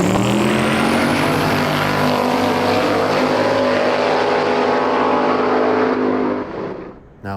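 A Ford Falcon drag race car makes a full-throttle pass at a no-prep drag race in Ohio, its loud engine roar climbing steadily in pitch for several seconds before cutting off and fading away.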